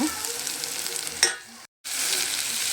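Potato palya with salt and turmeric is stirred and fried in a hot pan, a loud sizzling hiss with scraping strokes, a short sharp clank, then a brief silence before the frying resumes.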